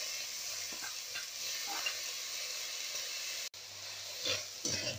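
Chopped onion and tomato sauté in a pan for a coriander paneer dish, giving a soft, steady sizzle with occasional stirring scrapes. The sound stays quiet and close, with no talk.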